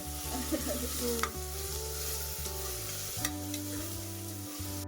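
Ingredients for chicken biryani sizzle and fry in a pan, stirred now and then, as a continuous soft crackle that stays steady for a few seconds with no talking.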